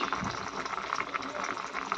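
Potatoes simmer in a pot of water with salt and turmeric, giving a soft, continuous bubbling and hissing that stays quiet and close throughout.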